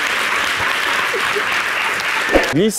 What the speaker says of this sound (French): Mais applaudissez.